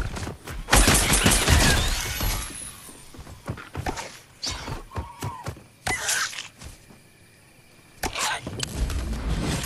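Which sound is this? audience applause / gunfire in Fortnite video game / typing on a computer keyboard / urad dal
gunfire in Fortnite video game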